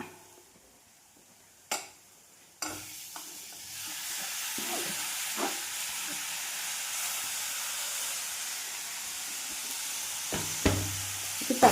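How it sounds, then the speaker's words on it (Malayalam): Chopped tomatoes tip into a hot pan of oil and turmeric for a home egg curry, with a few soft knocks before a steady close sizzle that hisses on alone, with occasional stirring clatter near the end. "ഇനി തക്കാളി ഇടണം."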